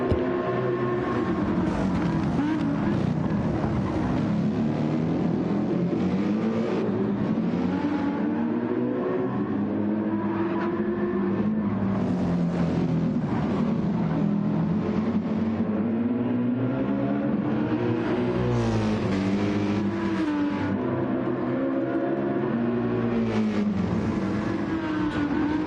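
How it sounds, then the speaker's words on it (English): Racing cars in a racing video game roar continuously, engines revving and shifting pitch as they accelerate and pass, loud and steady with no talking over them. "we'll enjoy some car noises while I sort out my controller"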